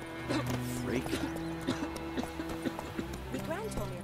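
Geralt's horse Roach in The Witcher 3 trotting with an irregular patter of hoofbeats, heard under steady background music and ambient game sound.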